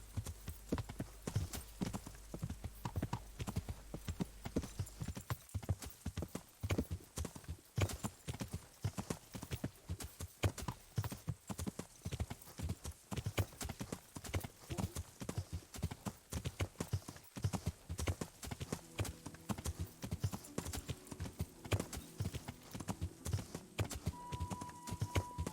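Steady clip-clop of horse hooves from a mare being ridden in the medieval game Kingdom Come: Deliverance, a continuous close rhythm of hoofbeats with a faint whinny and soft tones near the end.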